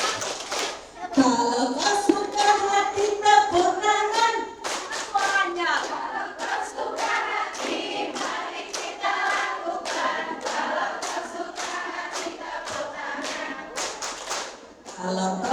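A group of adults and children clap hands in rhythm along to a children's sing-along song at an anti-bullying parenting session, rapid sharp claps with singing voices woven throughout.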